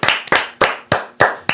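Five or six slow, evenly spaced hand claps ring out close and sharp, each a distinct crack with a short decay, with nothing else beneath them.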